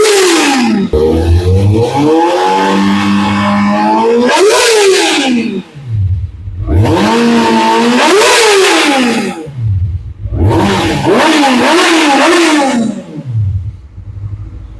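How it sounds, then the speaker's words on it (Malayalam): Kawasaki inline-four sport bike, a ZX6R or Z900, revved hard three times, each rise to a loud high-pitched scream then falling back, with short idle gaps between, close and alone. "ഇതൊരു ഇൻലൈൻ 4ന്റെ സൗണ്ട് വേറെ ലീഗാണ്"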